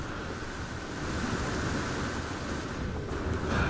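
Ocean waves washing onto a beach in the video game No Man's Sky, a steady broadband surf rush with a slight swell partway through, moderately soft and alone with no talk.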